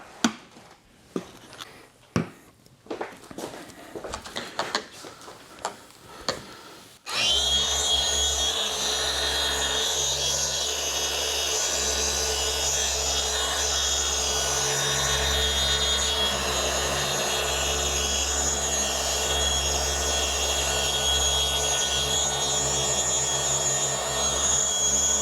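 A machine polisher fitted with a microfiber disc compounds the paint on a BMW X5, starting after several seconds of handling knocks and then running as a loud, steady whir with a constant motor hum for the rest of the stretch.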